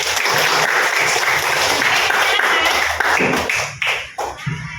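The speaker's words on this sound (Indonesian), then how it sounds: "Ya, tepuk tangan dulu." Classroom applause from a group of students, dense steady clapping filling most of the stretch before breaking into scattered, fading claps near the end.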